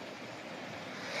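Sea waves washing onto the shore at Khairan Beach in Kuwait, a faint, steady surf rush blended with wind noise that swells slightly toward the end.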